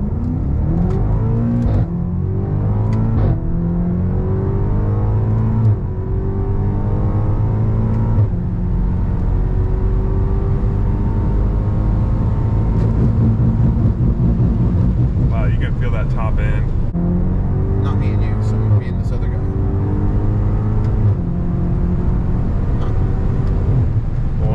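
A tuned 2019 BMW M5 Competition racing a 2024 G87 BMW M2: loud engine revving through repeated rising gear pulls with brief shift breaks, heard from inside the car for the whole stretch.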